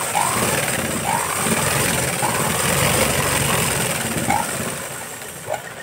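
A sewing machine stitches a fabric lining, with a continuous close motor hum and rapid needle chatter under a few faint squeaks, steady for the whole stretch.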